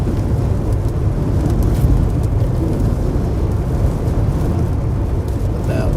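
A tornado-warned storm in Kansas gives off a constant loud, low rumble of thunder with heavy wind and rain, steady and close throughout.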